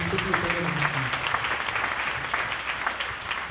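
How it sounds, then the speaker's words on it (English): A congregation at a church sermon claps together in a steady, fairly distant wash of many hands, with rhythmic accents poking through the even roar. "Clap for Lord Jesus Christ"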